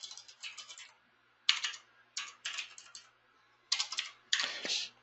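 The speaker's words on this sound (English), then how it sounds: "And then from here, I can type in, change the address." Someone types on a computer keyboard in short quiet bursts of rapid key clicks separated by pauses, close to the microphone with no talking.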